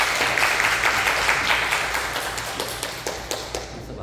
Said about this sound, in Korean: 따뜻하게 박수로 환영해 주시면